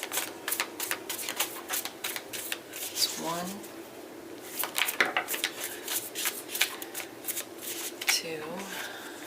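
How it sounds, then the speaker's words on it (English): Tarot cards are shuffled in repeated rapid riffling bursts, crisp and close, with a woman counting aloud between shuffles. "we're going to do 3 more shuffles."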